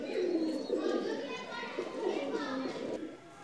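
Pakistani Chapray pigeons cooing softly in a continuous low murmur, with children's voices and chatter mixed in around the birds.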